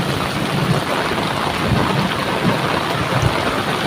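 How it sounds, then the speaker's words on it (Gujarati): Heavy village rain pouring in a dense, steady roar with low rumbles, loud and continuous with no voices. "એટલો ભયંકર વરસાદ પડી રહ્યો"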